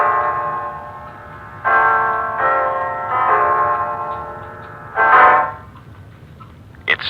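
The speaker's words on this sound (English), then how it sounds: "It's 9 o'clock, Mrs. Reeves" Clock chimes from a radio mystery drama, several resonant tolling strokes with long ringing decays, loud and close, one stronger strike near the end, with no voices.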